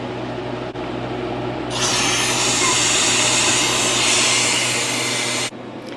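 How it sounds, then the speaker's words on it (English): A freeze dryer's drain valve opened after a run, releasing a sudden loud, steady hissing rush of air that holds for about four seconds and then cuts off abruptly, over the machine's constant background hum. "I'm just going to open the drain valve."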